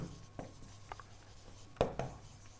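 Marker or chalk writing a sentence on a classroom board, a few quiet, scattered scratching strokes and taps with short pauses between them, close and faint.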